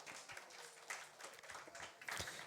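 A church congregation claps to welcome a family at a worship service: soft, fairly distant applause from many hands, continuous and even, with a few louder claps near the end.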